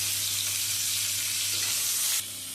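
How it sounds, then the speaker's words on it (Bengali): Pointed gourd (potol) slices sizzle steadily in hot oil in a kadai after the potatoes were fried, a dense continuous frying hiss that cuts off sharply near the end, with a low hum beneath. "আলু ভেজে তুলে নেওয়ার পরে ওই তেলের মধ্যে পটলগুলোও ভেজে নেব"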